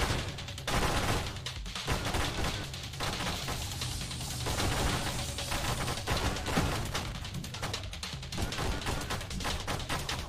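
Rapid-fire shooting in the space shooter Nova Drift comes as a continuous stream of quick shots and bursts, steady and fairly quiet with no talking.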